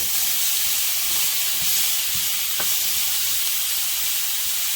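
Onions browning in a pan give off a steady, even sizzle and hiss with no break, close by, with a few faint clicks under it.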